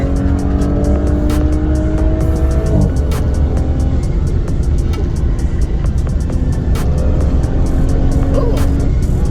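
Engine of a car fitted with a 034Motorsport rear differential mount insert, rising and falling in pitch as it accelerates on twisty roads, steady and close with sharp clicks and road noise throughout.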